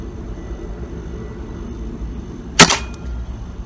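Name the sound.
pellet gun shots fired through a chronograph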